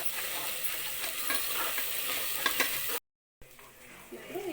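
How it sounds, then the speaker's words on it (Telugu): Goat head curry masala with turmeric and paste is stirred in a hot pan, a close, dense sizzle with scraping spoon strokes that cuts out abruptly before quieter frying resumes. "తర్వాత ఒకసారి ఇట్లా కలుపుకోవాలి"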